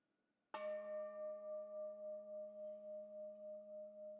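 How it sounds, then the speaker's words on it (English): A single gong strike rings out loud and close, its sustained tone shimmering with a slow pulsing beat as it decays over several seconds in a quiet community gathering space. "as we ring our gong and let the sound connect us"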